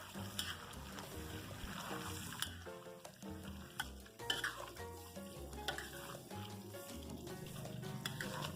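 A spoon stirs green curry with pork and winter melon, basil, kaffir lime leaves and sliced chili in a pot, producing close repeated scraping and clinking over a soft simmering bubble, with no talk.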